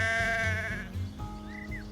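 A ram bleats in a long wavering call, followed a moment later by a shorter, higher bleat, close and distinct against a quiet outdoor pasture background where cattle graze, with no one speaking.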